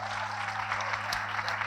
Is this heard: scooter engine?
no